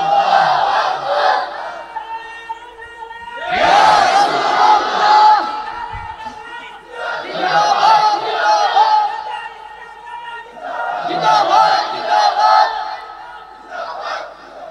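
A large crowd at a Bengali Islamic sermon gathering chants slogans in loud, repeated collective bursts with raised hands, four or five surges separated by brief lulls.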